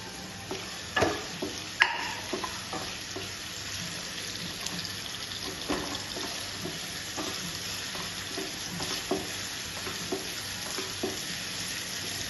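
Crushed ginger and spices sauté in a frying pan for chicken chukka, giving a steady soft sizzle with occasional stirring clinks and scrapes. The sound is faint and continuous, with no voices.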